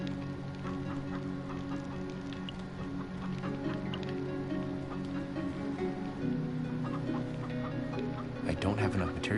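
A chicken clucks repeatedly in Minecraft Story Mode, its calls close and steady over a soft rain-like patter, with a brief burst of clatter near the end.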